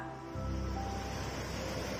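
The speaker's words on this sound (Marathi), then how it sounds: "येथे मी तुम्हाला एक छोटासा व्हिडिओ दाखवते ज्यामध्ये समुद्राच्या लाटा कशा प्रकारे उसळतात" Ocean waves surge in a steady, full rush of surf, played back from a recording and filling the whole stretch with broad, continuous noise.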